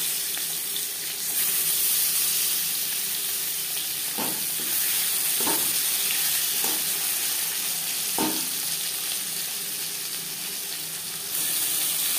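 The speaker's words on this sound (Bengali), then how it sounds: "মাছ ভেজে নেওয়া কড়াইতে আবারও তেল দিয়েছি। দিয়ে দেব পেঁয়াজ কুচি, 7-8 কোয়া রসুন," Chopped onion and garlic sizzle in fresh oil in a wok, a steady, strong frying hiss punctuated by several dull knocks and scrapes of stirring, with no speech.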